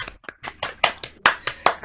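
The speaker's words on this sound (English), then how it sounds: "applause." Scattered applause from online meeting participants coming off mute, a handful of separate claps in an uneven rhythm, fairly close and sparse.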